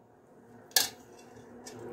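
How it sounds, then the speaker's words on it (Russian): A single sharp metallic clink of a utensil against a pot, followed by fainter scraping, as an egg mixture is added and stirred into Georgian chikhirtma chicken soup; quiet and close, with no talking. "Все, теперь эту массу добавляем в суп."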